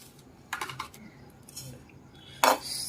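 Fenugreek and cumin seeds are stirred and dry-roasted in a pan, giving sporadic metallic scrapes and rattling of the spoon against the pan, with one louder clatter near the end and no talking.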